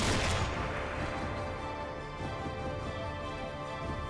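Gunfire aimed at the player in the World War II shooter Sniper Elite V2 Remastered: a loud burst of shots at the start, then a dense, continuous rumble of distant battle and scattered reports, with no talking.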